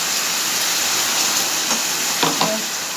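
Water from rinsing a mixer bowl of ground spices is poured into chicken frying in a pan, giving a loud, continuous sizzling hiss with a few faint spatters near the end.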